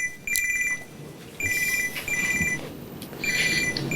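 An electronic telephone ringtone trills in repeated bursts, clear and fairly close, with short gaps between rings over a faint background hiss.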